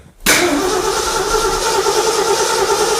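A carbureted engine in an old truck cranks and catches after a brief quiet moment, then settles into a steady, close idle that runs on without pause.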